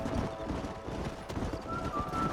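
Horses galloping in the Red Dead Redemption video game, a steady run of close, busy hoofbeats throughout the short stretch, with a faint voice underneath.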